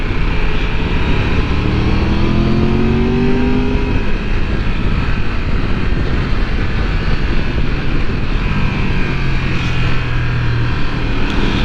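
A Triumph Tiger motorcycle accelerates uphill in first gear, its engine note steadily rising in pitch as torque pulls it up the slope, heard as a continuous drone with wind rush and no talking.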